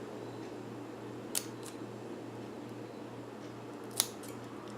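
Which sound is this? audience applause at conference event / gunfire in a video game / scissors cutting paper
scissors cutting paper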